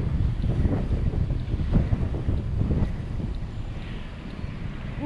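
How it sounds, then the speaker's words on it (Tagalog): Strong wind roaring and buffeting the microphone outdoors near a highway, a loud low rumbling gust-driven noise that swells and fades throughout without pause. "Lakas ng hangin."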